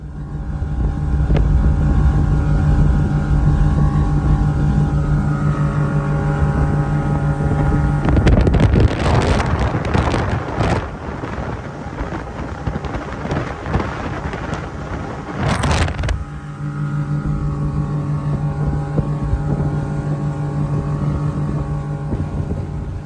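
A 2022 Lund 1875 Crossover motorboat runs at speed over water, its engine a steady loud drone with gusting wind buffeting the microphone and bursts of rushing spray and hull slap midway, close and continuous.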